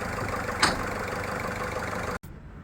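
A second-hand car engine with a broken mount bolt runs roughly and shakes hard, giving a steady low rumble with a brief knock near the start. The sound cuts off abruptly just before the end.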